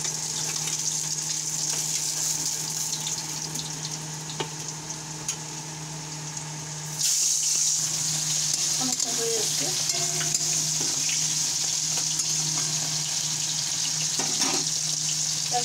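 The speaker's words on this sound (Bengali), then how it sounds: "মাছটা ওটা ভাজা হয়ে গেছে তুলে নিলাম" Aila fish fries in a pan of hot oil, a continuous close sizzle with steady background hum and scattered stirring clatter, growing slightly brighter partway through, with no speech.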